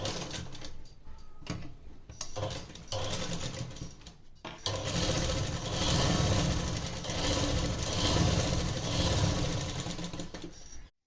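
A sewing machine stitches a seam on a pair of ladies' trousers, a close mechanical whir that starts in short bursts and then runs longer and louder in a steady stretch.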